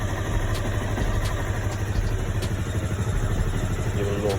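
A Honda CBR 250R motorcycle engine runs at a steady idle just after a fuel injector installation, a close, even mechanical putter with faint ticking on top and no blips of throttle.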